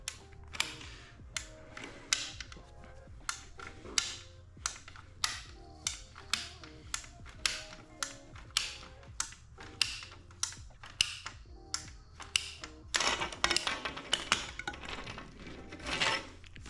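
Repeated sharp clicks from a ratcheting PVC pipe cutter as its teeth catch while cutting PVC pipe, about once per second and fairly close, with a denser burst of clicks near the end and no talking.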